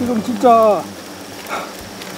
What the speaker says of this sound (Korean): 통 안에 굉장히 많은 벌이 들어갔고요